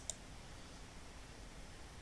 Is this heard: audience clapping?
no